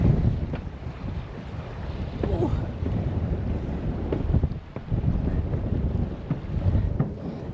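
Heavy stormy wind buffets the microphone on an exposed stretch of the Swedish coast near Smygehuk, a constant loud roar with gusty surges and rumbling low-end bursts throughout.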